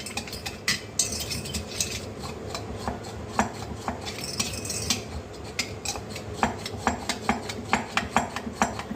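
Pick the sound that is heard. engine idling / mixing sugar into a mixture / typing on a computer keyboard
mixing sugar into a mixture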